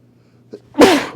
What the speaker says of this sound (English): that was a long ride of a sneeze